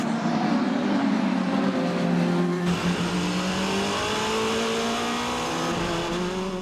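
Porsche and Toyota race cars in an FIA WEC endurance race, one overtaking the other up the inside, engines roaring loud and close with shifting, rising revs and a faint tire squeal throughout.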